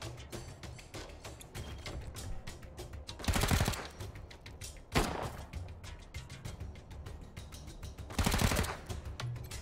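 A deployed turret in Wasteland 3 fires rapid mechanical bursts, with steady clattering shots broken by three louder, heavier volleys spaced a few seconds apart.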